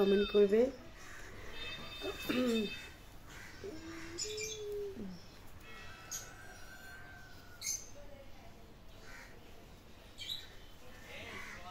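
Small birds chirp and twitter close by in short, high calls, with a person speaking briefly at the start.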